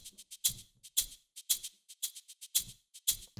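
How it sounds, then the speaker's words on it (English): A reversed, resampled shaker layered with the original shaker sample plays a quick looping groove of crisp hissing bursts, some with soft low thumps, repeating evenly and close. "It's a perfect completion to the original shaker sample."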